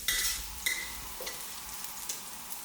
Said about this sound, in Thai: ผัดจนกระเทียมเริ่มเหลืองหอมก่อนนะครับ